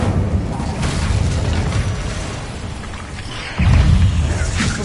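Incendio fire spell cast in the video game Hogwarts Legacy, giving muffled booming bursts under game ambience, with a louder burst toward the end.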